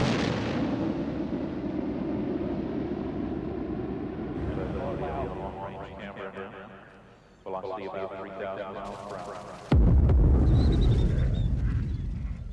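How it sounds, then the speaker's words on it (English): The space shuttle's double sonic boom on landing approach comes as two sharp, loud cracks late in the clip, after a long low rumble with a voice talking. "The shuttle announces its arrival with 2 sonic booms as the leading edge of the wing and tail break the sound barrier."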